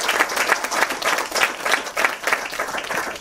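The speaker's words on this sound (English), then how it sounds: "So a big round of applause for Charles" An audience at an architecture archives lecture gives a round of applause, close and lively clapping with a pulsing, uneven rhythm that continues steadily throughout.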